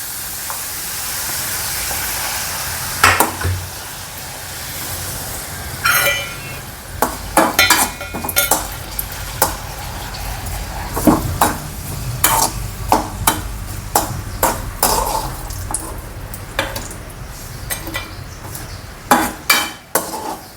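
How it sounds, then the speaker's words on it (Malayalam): Broken papadam fries in a pan with a continuous hiss of oil, broken by many sharp scrapes and clatters of a utensil against the pan, some in quick clusters. "ഇപ്പോൾ പപ്പടം പൊട്ടിച്ചു വറക്കാണ് കേട്ടോ"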